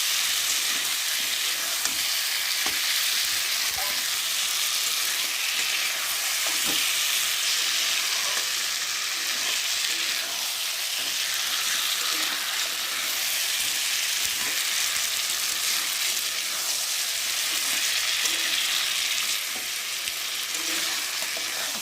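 Vegetables, including ridge gourd, sautéing in hot oil in a pan for a fish curry: a steady, dense sizzle that holds evenly throughout, close and fairly loud, with no talking.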